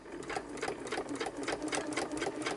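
A sewing machine stitches paper tags and cards for a junk journal, a fast, even run of mechanical chattering pulses at close range with no talking.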